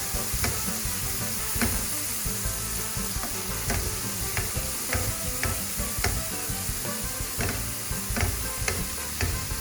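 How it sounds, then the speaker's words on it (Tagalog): Steak sizzles steadily in a pan of melted butter while it is basted, with a spoon scraping and clicking lightly at irregular moments. The frying is close and continuous, and no one speaks. "Just let it melt. Now we're going to baste it."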